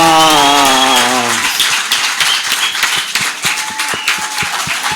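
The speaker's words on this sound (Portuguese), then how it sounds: "uma salva de palmas!" Crowd applause at a church-style event breaks out after a sustained sung or shouted tone fades, with dense clapping carrying on to the end.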